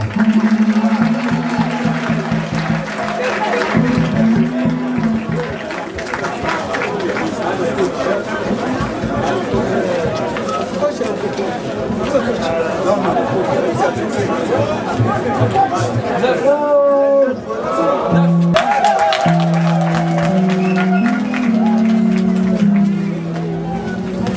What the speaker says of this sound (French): Est-ce qu'on peut applaudir pour les handballeuses?